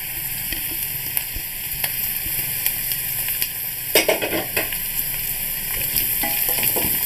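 Ginger and green chilies sautéing in a pan for lime pickle: a steady bright sizzle with scattered crackles, joined by a few louder clatters and scrapes of stirring midway, close and without any voices.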